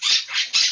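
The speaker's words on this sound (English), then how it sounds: "Even the bird wants to sing." Pet bird squawking indoors, three loud shrill harsh calls in quick succession, close and alone with no talk.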